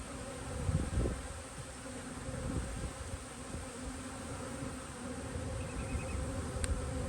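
Honey bees buzzing at an open hive during a nuc install, a dense continuous drone close by with a few soft handling knocks, no talk.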